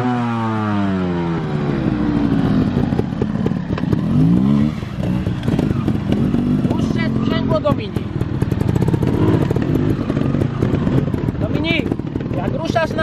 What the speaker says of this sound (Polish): Zrobiłbyś jedno, dwa kółka na swoim motocyklu?